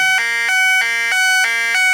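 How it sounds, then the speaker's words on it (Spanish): A hobby electronic siren circuit with a 103 capacitor, running on 6 volts, gives a loud ambulance-like tone that steps between two pitches in a steady repeating cycle, close and alone. "Parece una ambulancia."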